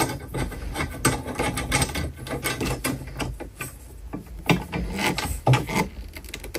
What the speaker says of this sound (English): I'm just gonna screw it down and I'm gonna secure it.